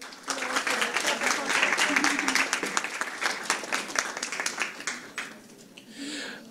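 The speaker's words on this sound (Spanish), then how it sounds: "Un aplauso, por favor" Audience applause at a university communications conference in a humanities faculty: a dense, steady wash of clapping for about five seconds that thins and fades out, with a voice briefly audible near the end.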